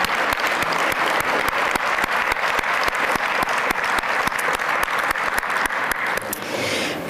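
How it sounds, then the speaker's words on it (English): Sustained applause from an audience at a Georgia business awards ceremony honoring awardees, dense steady clapping throughout, slightly thinning near the end. "Let's give them all a round of applause."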